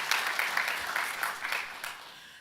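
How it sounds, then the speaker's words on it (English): Audience applause closing a session in a conference hall, a fairly soft, steady clapping that gradually thins out over a couple of seconds with no voices on top. "And let's give a hand clap to our..."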